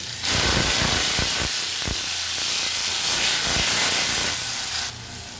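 Onion paste hits hot oil with a loud, sudden burst of hissing sizzle that stays strong for several seconds, with a few stirring knocks, then eases off near the end.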